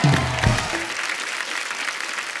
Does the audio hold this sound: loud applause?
yes